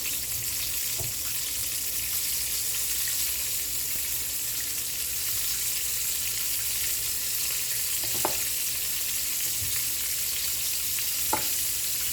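Flour-coated tilapia pieces fry two at a time in hot oil in a pot, Jamaican style, giving a loud, steady crackling sizzle with occasional soft knocks.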